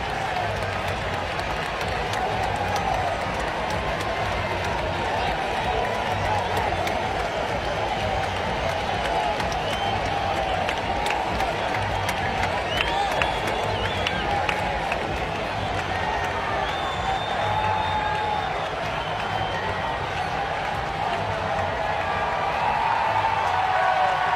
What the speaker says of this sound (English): crowd's going to let David hear it as he heads off here